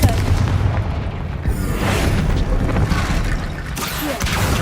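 Confringo blasting spell going off in Hogwarts Legacy, a dense, booming burst with crackling debris, loud and sustained over several seconds of chaotic battle noise, with a second surge near the end.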